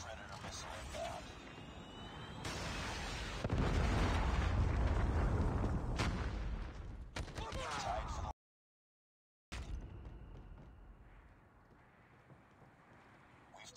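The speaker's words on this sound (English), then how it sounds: "Friendly predator missile inbound." Predator missile strike in Call of Duty gameplay: a loud, rumbling blast swells for a few seconds amid game voices and battle noise, then fades to quieter background after a brief silent gap.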